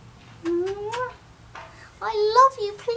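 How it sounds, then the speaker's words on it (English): A ginger cat gives two drawn-out, rising meows close by, separated by a short pause, the second louder and more insistent, with no talking in between. "You're a naughty kitty."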